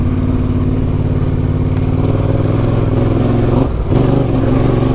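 A fully loaded adventure motorcycle rides along a remote, slippery track, its engine a loud, steady drone held close throughout, with a brief dip and shift in pitch near the end.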